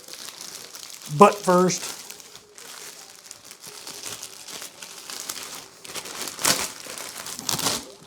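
A plastic shrink bag crinkles and rustles up close as processed meat rabbits are packed for the freezer, with a short voice breaking in early and scattered louder crackles later.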